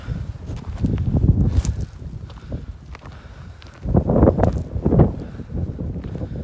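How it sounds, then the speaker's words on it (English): Gusty wind buffets the microphone in uneven rumbling surges, stronger in two waves, with faint rustling and footsteps outdoors on a hike up Guadalupe Peak, Texas. "I'd say it's pretty windy out here still."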